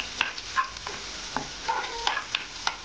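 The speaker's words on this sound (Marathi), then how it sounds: "याच्यामध्ये आपण ठेचून घेतलेला लसूण टाकून घेणार आहोत। पण थोडासा आपल्याला 1 मिनिटभर परतून घ्यायचा आहे।" Crushed garlic and cumin fry in hot oil with a bright crackling sizzle, while a spoon scrapes and taps the pan at an irregular pace, close and clear.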